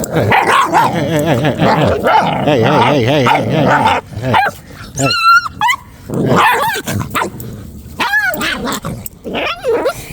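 A dog barks, whines and growls close up in an agitated, irregular run of yips and howls, with a voice mixed in.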